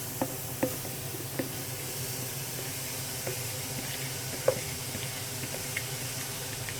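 Grated carrots for gajar halwa cook in a pan over an open flame, giving a faint, steady sizzle and hiss with a few soft clicks and taps from the pan.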